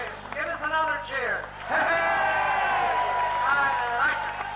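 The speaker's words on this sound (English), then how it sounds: "Give us another cheer." A crowd at a tribute night gives a loud, sustained cheer with whoops and shouts, swelling after a brief dip, while someone speaks over it.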